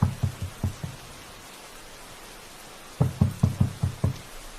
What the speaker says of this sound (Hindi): और जोर जोर से उस दरवाजा को खटखटाने लगा